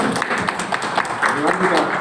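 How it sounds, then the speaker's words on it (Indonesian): An audience at a World TB Day talk show claps in a short burst of applause, close and fairly loud, with voices audible underneath. "Tepuk tangan dulu."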